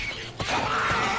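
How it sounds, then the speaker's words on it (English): Mechanical clicks and a ratcheting clack of a gun being reloaded during Left 4 Dead co-op play in the Dead Center Streets campaign, a short sharp snap near the middle over a steady game background. "Hey, I'm reloading!"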